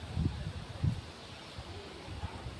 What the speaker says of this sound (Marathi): वारा तर खूप सुटला आहे